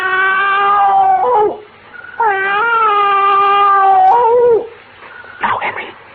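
A man imitates a cat with two long drawn-out meows, each a wavering tonal cry lasting about a second and a half, loud and close, with a short pause between them and a brief muffled noise after.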